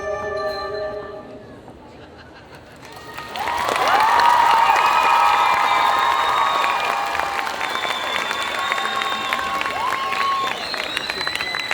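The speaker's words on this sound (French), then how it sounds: "Et encore bravo au groupe Licky. Vous pouvez les applaudir." An audience at a group cosplay contest at the Japan Addict Z 2022 convention breaks into loud, sustained applause and cheering after a quieter start, with whistles and bright tones ringing over the clapping crowd.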